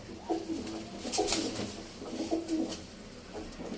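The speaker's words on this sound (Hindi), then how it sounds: "ये हैं जी हमारे ब्रीडर कबूतर" Breeder pigeons coo softly and repeatedly nearby, their low throaty calls overlapping in a gentle, uneven rhythm.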